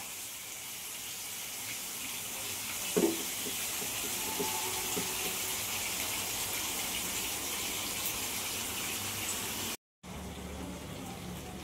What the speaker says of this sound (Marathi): या तव्यावरती मी हलव्याचे तुकडे टाकलेत फ्राय करायला.